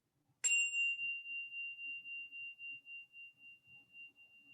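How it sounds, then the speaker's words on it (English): A single bell strike rings out clearly, its pure tone lingering and slowly fading with a gentle pulsing shimmer in a quiet room. "listening to the sound of the bell as it fades"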